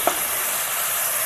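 Onions and green chillies fry in a pan, making a dense, even hiss with a brief stirring scrape at the start, close and steady, and no one talking.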